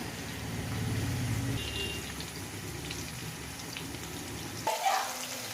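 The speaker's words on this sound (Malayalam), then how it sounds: "നെയ്യുള്ള മത്തിയാണ്, അതുകൊണ്ട് വേഗം ഉള്ളു വേവേയില്ല, പുറമെ വേഗം കറുത്തിങ്ങ് പോരുകയും ചെയ്യുന്നത് കൊണ്ട് ലോ ഫ്ലെയിമിലിട്ടൊന്ന് പൊരിച്ചെടുക്കാം നമുക്ക്" Oily sardines fry gently over a low flame, giving a steady close-up sizzle and crackle that continues throughout, with a brief louder spatter near the end.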